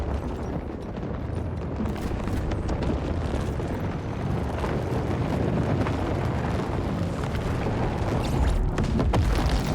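Heavy lance weapon fire in the strategy game Total War: Warhammer 40,000, a dense, continuous roaring blast and rumble of explosions that stays loud for the whole stretch.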